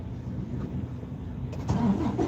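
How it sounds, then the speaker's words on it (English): A semi truck's engine cranking then catching, a low mechanical grind that jumps to a louder running rumble near the end, close and brief. "That's why y'all hear me when I crank my truck."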